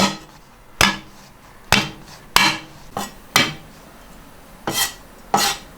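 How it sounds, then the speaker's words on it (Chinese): A cleaver smashes garlic on a board with several separate heavy thwacks, spaced unevenly with quiet gaps between them. "蒜拍碎"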